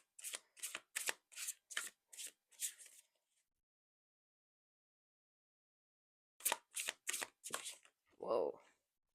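Oracle cards being shuffled by hand in two bursts of quick, crisp riffling flicks, close to the mic and separated by a few seconds of silence, with a low murmur at the end.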